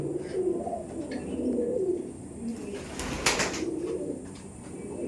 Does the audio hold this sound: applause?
no